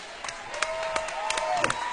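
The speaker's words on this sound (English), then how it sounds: "a big round of applause for both of these RFO competitors" A crowd at an amateur RFO fight event claps and cheers for both competitors, steady applause with sharp claps and a rising whistle-like cry mixed in.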